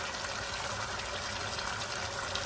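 Water pours into a pan holding leftover sardine sauce as a soft, even gushing hiss that stays steady throughout.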